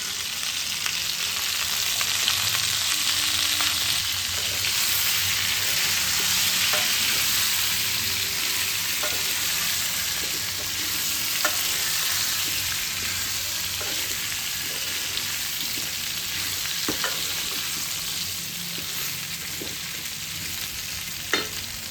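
Mango pickle cooking with jaggery and turmeric in a pan, Bengali style, giving a steady close sizzle with faint stirring scrapes throughout.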